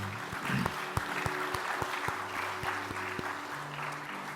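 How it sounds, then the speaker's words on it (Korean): Steady applause from a church congregation during a Sunday service, sustained clapping throughout at a moderate, even level. "저희들이 크게 박수로 환영하겠습니다"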